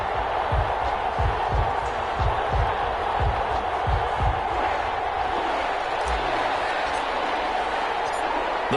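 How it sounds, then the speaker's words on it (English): Crowd noise fills an NFL stadium before a Miami Dolphins vs New Orleans Saints game: a steady, dense roar of many voices, with a run of low thumping beats in the first few seconds. "This crowd is ready as their guys get set to match up between the Miami Dolphins"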